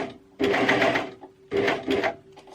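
A coverstitch sewing machine stitching a garment, two close, steady whirring runs of rapid needle strokes separated by a short pause, humming alone without talk.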